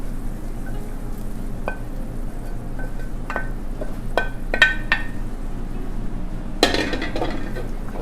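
Egg chunks are added to masala frying in a pan for egg bhurji, with a soft continuous sizzle and scattered metallic clinks of a spoon against the pan.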